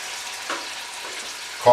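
Chicken frying in hot canola oil on a stovetop for homemade chicken noodle soup, a steady close crackling sizzle that swells briefly near the end.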